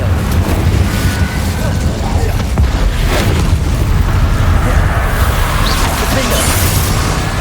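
Confringo and Incendio spell blasts in the Hogwarts Legacy video game, a loud continuous rumble of fiery bursts and booms with wind-like roar, heavy low end throughout, under a player shouting spell names.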